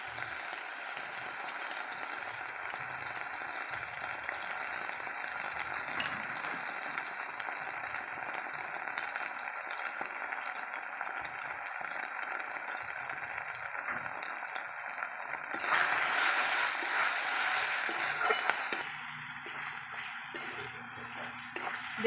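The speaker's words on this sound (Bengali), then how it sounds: "দেখুন মশলা থেকে তেল ছেড়ে দিয়েছে, হালকা করে কষিয়ে নিয়েছি মশলাটাকে" Spice paste with turmeric and salt fries in oil for a rural Bengali duck egg curry, giving a steady sizzle that swells louder near the end with some stirring; no talking.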